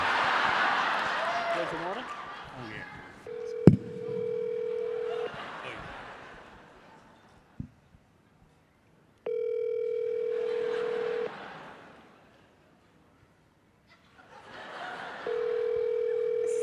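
Phone call tones ring out in repeated bursts separated by pauses and end in a voicemail greeting, with a small crowd's murmurs and chuckles at a fan convention panel.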